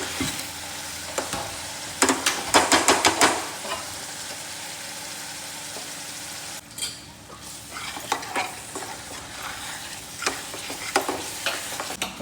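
Onion dal being stirred and sautéed in a pan until it turns into gravy, restaurant style, with a steady close sizzle, bursts of fast spoon scraping and clattering against the pan, and no talking.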